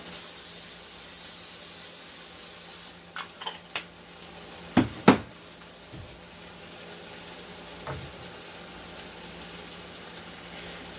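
Cooking spray hisses steadily from a can into a 9 by 13 baking dish for about three seconds, loud and close, followed by several sharp knocks and clatters as the can and dish are handled.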